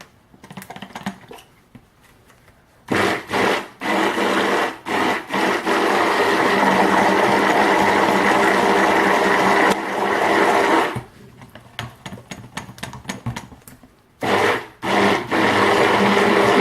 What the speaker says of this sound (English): Maybe I'll blend it one more time before I spoon plop it down the soap